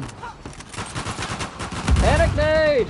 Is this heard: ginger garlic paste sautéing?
no